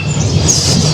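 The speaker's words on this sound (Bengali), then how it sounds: "খুব পাখির ডাকে এটা হয়তো আপনারা আওয়াজ পাচ্ছেন" Birds call through dense forest at Chilapata in the Dooars, a steady high chirping spread over a constant low rumble of wind or distant noise.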